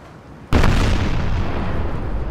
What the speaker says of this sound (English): big broadside from the Trinidad